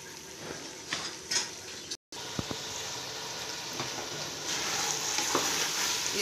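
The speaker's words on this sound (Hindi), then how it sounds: "अब इसकी भुनाई होती रहेगी 10-15 मिनट तक, इसकी भुनाई होगी" Ginger, cauliflower and meat curry frying in a pot, a steady close sizzle that grows slightly louder toward the end, with occasional light clinks of a spoon stirring against the pot.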